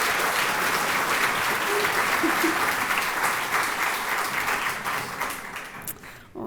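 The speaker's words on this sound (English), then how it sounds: "we should give a round of applause to Rachel on the horn" An audience applauds a horn player after a brass quintet performance at an art museum, a dense steady wash of clapping that holds for several seconds before thinning out at the end.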